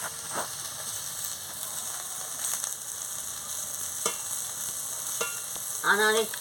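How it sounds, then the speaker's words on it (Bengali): Poppy seeds fry with a constant soft sizzle in a pan while a utensil scrapes and taps now and then, ending in a short squeak. "আমি ভালো করে পোস্তটাকে একটু ভেজে নিচ্ছি"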